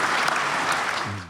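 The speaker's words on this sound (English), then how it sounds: "I'm gonna clap for that." Applause from a small group fills the space, a steady dense patter of clapping that tapers off near the end.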